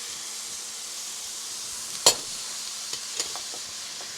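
Minced tomato sizzling in a pan for vegetable korma, a soft steady frying hiss with one sharp clink of a utensil midway and a few light taps after, fairly quiet and without speech.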